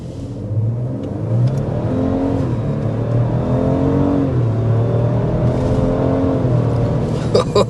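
A 2025 Ford Ranger with a 2.7 liter twin-turbo V6 under hard acceleration, a steady loud engine drone heard from inside with rising pitch sweeps through several gear changes.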